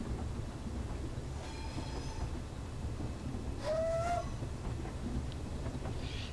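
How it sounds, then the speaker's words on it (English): A steam locomotive on the Corris Railway in a train simulator rolls along with a low steady rumble, sounding a short whistle and then a second, clearer whistle, moderately loud with no talking. "A couple of different recordings of whistles on the railway."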